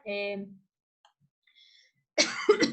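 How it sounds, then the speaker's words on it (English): A short harsh cough near the mic, followed by a quiet pause and then a burst of speech. "I have a terrible cough problem"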